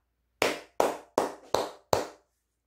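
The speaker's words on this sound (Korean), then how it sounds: "삼성전자가 매우 잘하고 있다는 의미에서 박수 한번 치고 가도록 하겠습니다." Five sharp, close hand claps ring out one after another at an even, unhurried pace, each a crisp slap with a short decay, in an otherwise silent room.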